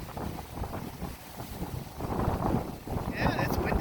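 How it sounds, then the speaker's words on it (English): Gusty wind buffets the microphone on an ocean pier, a steady low rumble that swells louder in the second half, while a person talks over it. "Yeah, it's windy up there."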